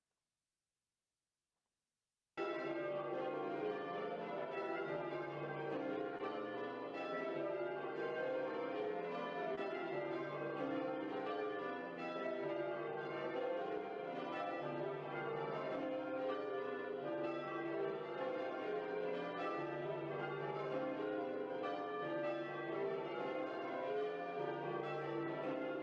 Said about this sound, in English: A familiar croaking noise from the back bells.